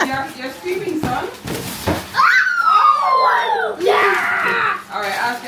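A young boy screams loudly at a home gathering around a birthday cake and presents, a long rising wail with a second shorter cry, following busy adult talk and room noise.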